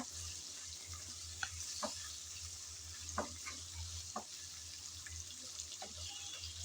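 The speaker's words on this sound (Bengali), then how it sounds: "চিংড়ি ভাজতে খুব একটা সময় লাগে না, 2-3 মিনিট একটু নেড়ে চেড়ে নিলেই হয়ে যাবে" Prawns frying in hot oil with steady sizzle while being stirred, with occasional soft clinks of a spatula against the pan; close and continuous, no talking.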